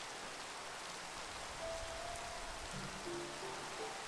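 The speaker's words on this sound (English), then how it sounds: "And yeah, it's raining." Steady rain in the Minecraft video game, a soft, even hiss of falling drops that stays constant and faint throughout, with a few faint tonal game sounds drifting in underneath.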